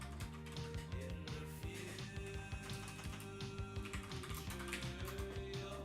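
Steady typing on a computer keyboard pushed off to one side, a dense run of quick, close keystrokes with brief pauses, over faint steady background music.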